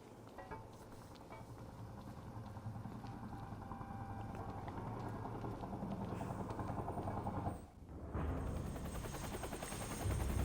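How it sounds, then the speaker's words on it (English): A helicopter flies overhead in the video game Quantum Break, a continuous loud rumbling drone that briefly dips near the end before returning at full strength. "Better get inside before the chopper spots me."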